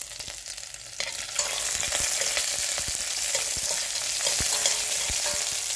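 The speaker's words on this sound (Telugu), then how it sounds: "ఆనియన్ కొద్దిగా వేగనిద్దాం." Onions frying in a pan of oil for spinach pulao, a loud, steady close sizzle with scattered crackles and pops, getting stronger after the onions are stirred in.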